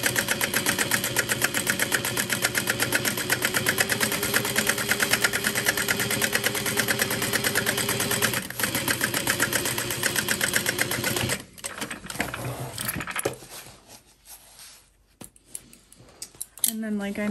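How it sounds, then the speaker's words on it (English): A sewing machine stitches across the foam back panel of a backpack, running loud and steady for about eleven seconds before stopping, followed by quieter handling noises. "So that's why I'm stitching down across there."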